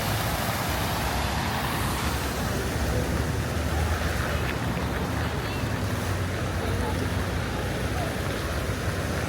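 Fountains at the Metropolitan Museum in Manhattan give a steady, broadband rush of splashing water, mixed with wind buffeting the microphone and constant at full level throughout.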